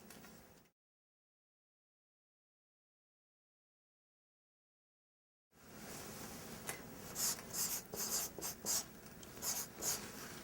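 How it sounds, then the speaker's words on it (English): People writing goals down on paper, a pen or pencil scratching in short, irregular strokes after a stretch of silence, close and fairly quiet with no talk. "So take just a few minutes to write that one down."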